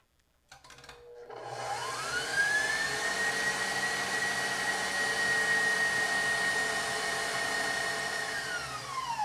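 A stand mixer whips egg whites with caster sugar for macarons, its motor rising from a start into a loud, steady whine that holds constant and alone for several seconds.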